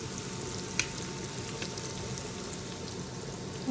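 Tomato and potato frying in a pan for a Bengali-style spicy egg pasta, giving a dense, steady sizzle close up with a single faint clink of stirring.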